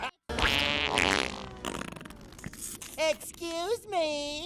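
A cartoon fart sound effect from the SpongeBob movie: a long, loud, buzzy raspberry-like blast that fades into scattered crackles and squeaky, rising toots.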